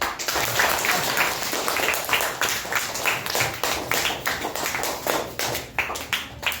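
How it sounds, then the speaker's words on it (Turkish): An audience applauds at an award ceremony for a school knowledge competition, a room of hands clapping in quick, uneven bursts that swell and fade, nearby and fairly loud with no talk over it. "Bir daha alkış."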